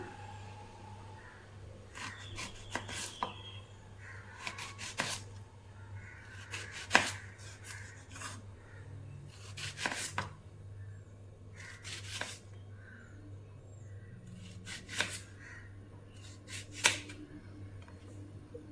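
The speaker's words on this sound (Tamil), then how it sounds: "நம்ம வாழைக்காயை கிராஸாக கட் பண்ணிக்கலாம்." A knife cuts crosswise through raw plantain on a board with sharp, distinct chops in small clusters spaced a couple of seconds apart, close and crisp over a low steady background hum, with no talking.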